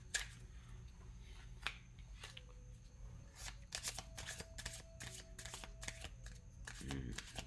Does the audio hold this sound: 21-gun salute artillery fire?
no